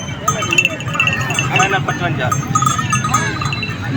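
Goats at a livestock market in Multan, with several loud, close bleats rising over a busy background of people talking.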